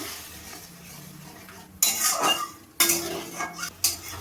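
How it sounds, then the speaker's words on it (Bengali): A spiced yogurt masala is stirred in a pan with a metal utensil, giving several loud scraping and clattering strokes in bursts after a quiet opening. "এবার আমি ভালো করে নাড়িয়ে নেব"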